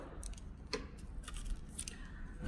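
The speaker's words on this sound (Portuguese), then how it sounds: "Vou sempre abrir o meu molde aqui, ó, com a tesoura." Scissors snip open a paper nail form mold used for sculpting artificial nails, giving a few faint, sharp clicks and short cuts close by over quiet room noise, with no talking.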